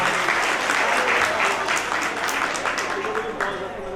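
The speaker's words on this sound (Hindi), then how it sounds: "एक बार ताली बजा के स्वागत करते हैं" An audience claps steadily for about four seconds at an Arya youth council foundation day gathering, the dense applause welcoming a Vedic scholar to the stage.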